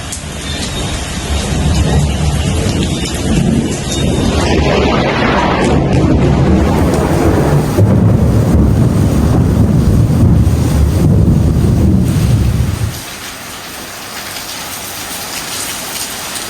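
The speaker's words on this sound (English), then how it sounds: "Well, the rains continue," Heavy rain pours during the Thailand floods, a loud dense roar with wind buffeting the microphone, easing abruptly to a softer steady patter near the end.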